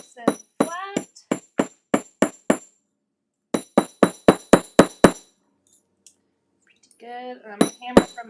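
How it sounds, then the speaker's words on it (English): Metal jewelry pieces are hammered flat, a series of sharp, ringing metallic taps in quick bursts of eight and seven strikes, close and loud, with a pause, a faint clink and brief speech near the end. "Let's hammer these puppies out so they're nice and flat."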